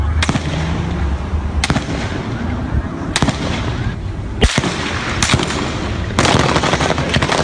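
Gunfire rings out during the Baton Rouge police shooting, a series of loud sharp cracks and bursts spaced unevenly over roaring background noise.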